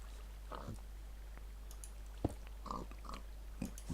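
A pig in the Minecraft video game gives short grunts at intervals over a steady low hum, alongside a few faint clicks. The sounds are quiet and isolated, with no speech.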